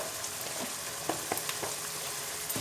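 Radish pieces fry in a pan with a soft continuous sizzle, broken by a few scraping clicks as a spoon stirs them; close, fairly quiet, no talking.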